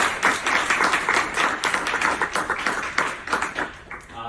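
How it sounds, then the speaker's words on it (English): An audience claps steadily after a lecture, a dense, continuous round of applause from a room full of people that holds strong throughout and thins slightly toward the end. "If we could all give him a round of applause."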